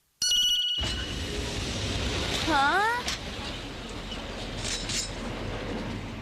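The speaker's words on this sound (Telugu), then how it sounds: "మనం ట్రైన్ లో ప్రయాణించబోతున్నాం" Cartoon train sound effect: a brief chime, then a steady loud rumbling run along the rails with a swooping whistle-like tone partway through.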